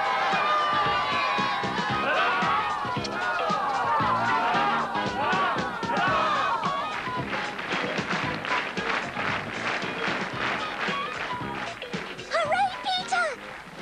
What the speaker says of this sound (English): Hear them all cheering you?